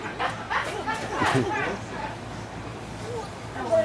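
A small dog barks and yips in short bursts while play-wrestling outdoors, close and mixed with people talking and laughing nearby.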